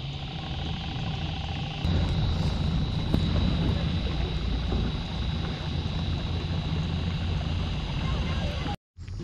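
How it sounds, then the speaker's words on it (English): A float plane landing on the water at Murrells Inlet, a steady broad engine and water roar close by that swells after a quiet start and holds for several seconds. "Yeah, somebody landed a float plane."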